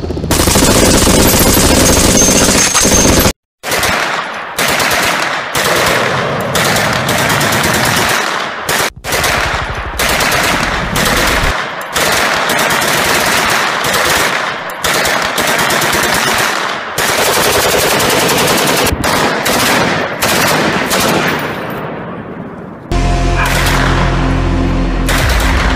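Loud machine gun fire rattles in long, rapid bursts with short breaks between volleys, harsh and close, ending in a deep low rumble.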